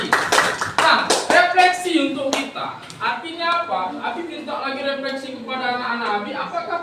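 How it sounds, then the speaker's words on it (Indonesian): Children clap in a short burst of applause in a classroom during an Islamic religious education lesson on Asmaul Husna. The clapping fades after about two seconds, and an adult then talks over a quieter room. "Tepuk tangan untuk Naila dan untuk Cinta"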